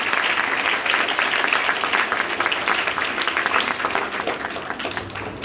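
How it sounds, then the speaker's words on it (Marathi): An audience at a prize-giving ceremony for an inter-school storytelling competition gives loud, steady, sustained applause for the winners, with a full room of clapping throughout. "आपण एकदा जोरदार टाळ्या वाजूया"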